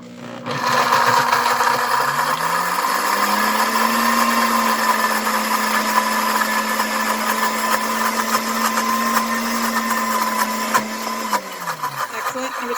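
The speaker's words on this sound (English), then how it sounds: "We're going to try the grind setting because I do want to kind of turn those peanuts into peanut butter." A blender on its grind setting turns peanuts into peanut butter with a loud, steady motor whine that ramps up, holds evenly for about ten seconds with gritty grinding texture, then winds down.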